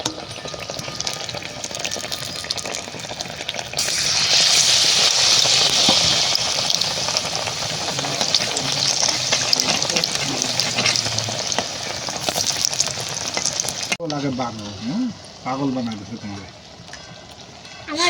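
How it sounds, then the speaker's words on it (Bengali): Eggplant fritters (beguni) shallow-frying in a little oil, a loud steady sizzle and bubbling close by, with stirring and a scraping utensil near the end. "আমাদের অল্প তেলে বেগুনি ভাজা যথেষ্ট সুন্দর হচ্ছে"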